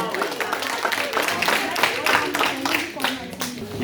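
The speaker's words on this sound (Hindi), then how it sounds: "इन चारों प्रतिभागियों के लिए एक बार जोरदार ताली" Audience applause for four quiz competition participants at a World Braille Day event, a burst of many hands clapping together, lively and close, with some voices mixed in.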